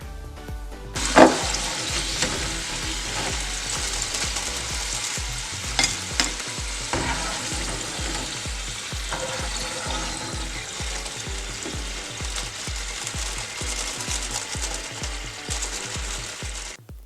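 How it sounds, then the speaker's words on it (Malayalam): Potato french fries fry in hot oil, a loud continuous sizzle broken by regular scraping stirs, close up with no talking. "ഇനി നമുക്ക് ബാക്കിയുള്ള പൊട്ടറ്റോസും ഇതുപോലെ വറുത്തെടുക്കാം"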